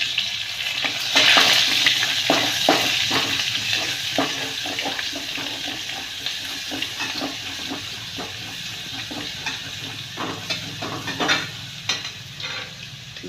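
Mustard seeds, cumin, garlic and chopped coriander sizzle and crackle in a pan while being stirred, a steady close frying hiss broken by repeated scraping strokes, with no voices.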